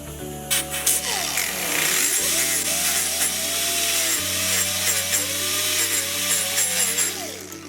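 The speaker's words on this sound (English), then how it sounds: "We're going to take our grinder and we're going to just kind of go in just a little bit around those teeth to help the roller fit into it." An angle grinder works around the teeth of a chain sprocket in a shop. The motor whines at a steady high pitch and the tone shifts as the disc bites into the metal, close and continuous for several seconds.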